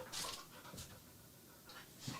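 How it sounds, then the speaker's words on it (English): A pet dog pants quickly and softly whimpers indoors, faint rhythmic breaths with a few thin whines, close but quiet. "Hey, Bingo, do not bark."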